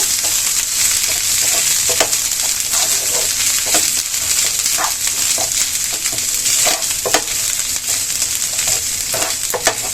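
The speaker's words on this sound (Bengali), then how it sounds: "আদা রসুনের পেস্টটাকে আমরা ভালো করে একটু ভেজে নেব" Ginger-garlic paste frying in a pan while shrimp in milk curry is cooked, a loud, constant close sizzle broken by occasional scrapes and taps of a stirring spoon, no voices.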